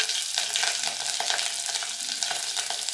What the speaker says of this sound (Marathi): तूप अगदी गरम झालेलं आहे, म्हणजे आपली फोडणी अगदी मस्त बसणार आहे.